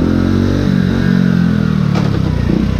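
A Honda Little Cub motorcycle engine climbing uphill in third gear, a loud, close, steady buzzing drone under load with slight surges, running alone without talk.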